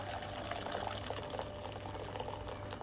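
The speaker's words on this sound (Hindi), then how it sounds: "तो यहाँ पानी डालो" Water running or pouring into a pot for boiling mixed vegetables for a salad, a steady continuous gush with a faint hum beneath, fairly close and alone without talk.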